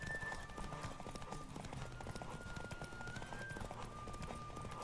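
A horse gallops in The Witcher 3, its rhythmic hoofbeats clip-clopping steadily and close throughout, with a thin tonal whine running over the top.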